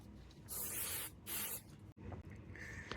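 Stop Rust paint sprays from an aerosol can onto a gas can in two short hissing bursts, close and clear, followed by faint rattling and another soft spray near the end.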